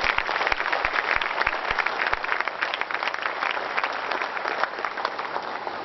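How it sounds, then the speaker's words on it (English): Steady applause from a large crowd, dense continuous clapping that holds at an even level throughout, no voices standing out. "give a round of applause, a big round of applause"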